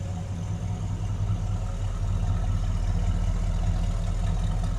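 A 1969 Chevrolet Chevelle with a 350 V8 idles steadily close by, a deep, even rumble with a rhythmic low pulse running alone and unbroken throughout.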